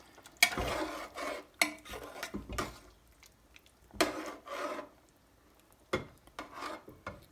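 Garam masala is stirred into chicken madras in a pot, giving close, scraping strokes of a utensil against the pot in uneven bursts separated by short quiet gaps.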